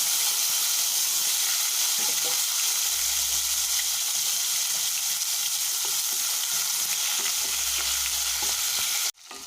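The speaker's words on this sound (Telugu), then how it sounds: "ఆవాలు చిటపట్లాడాక ఆనియన్స్ వేసుకోవాలండి." Onions fry in hot oil with mustard seeds in a pan, a steady, close, loud sizzle and hiss running throughout, broken briefly by a low rumble twice and cut off abruptly near the end.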